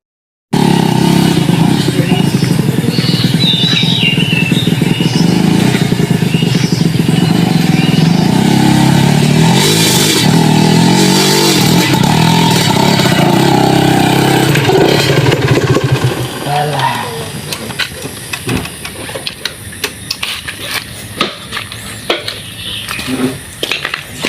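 A motorcycle engine roars loudly and close for a long stretch, then drops to a quieter idle with scattered clanks and knocks.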